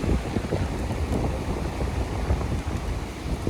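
Strong wind blows hard across the microphone beside the ocean at Pontal de Maceió beach in Fortim, Ceará, a steady roaring buffet that fills the whole moment with no voices.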